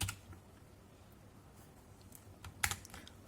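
A few scattered key presses on a METOO Z56 mechanical brown-switch keyboard, quiet and close, building to a louder cluster of clacks near the end over faint steady hum.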